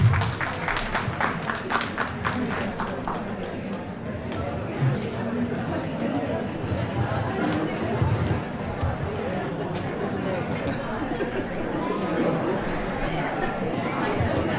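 An audience at an Ugadi celebration applauds the first prize winner, starting with bursts of sharp claps that soften into a sustained, crowd-wide patter mixed with chatter and murmuring voices.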